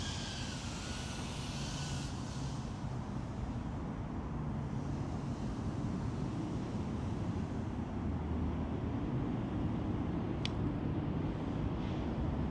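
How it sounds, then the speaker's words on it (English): Wind buffeting outdoors while a Hummingbird V4 drone flies, a steady loud roar with a constant low rumble throughout, along with a faint higher whine and a brief sharp tick near the end. "It is not liking that wind, I can tell you that much."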